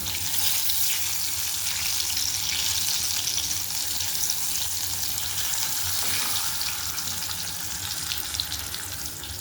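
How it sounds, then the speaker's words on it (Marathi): Food deep frying in hot oil and turning slightly burnt, a steady loud hiss and crackle that fills the whole stretch with no pauses. "मी जास्तच डीप फ्राय केलं आहे त्याला"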